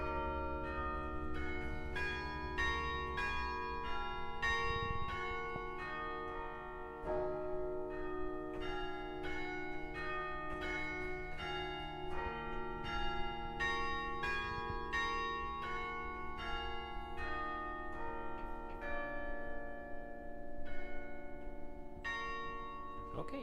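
Carillon bells played slowly during a masterclass at the annual GCNA carillon congress. Sustained, ringing bell tones are struck one after another at an unhurried pace, with overlapping resonance and no talking.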